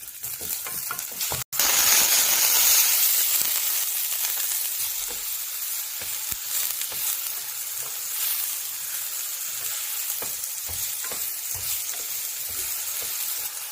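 Steady sizzling of ghee with chopped ginger frying in a pressure cooker, with occasional stirring clinks, close and continuous throughout.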